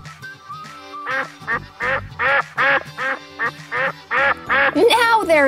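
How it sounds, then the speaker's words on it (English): Several ducks quack loudly and repeatedly in quick bursts, close by, with a rising squawk at the end. "I'm sure the ducks will get loud if you get closer to them, Walter."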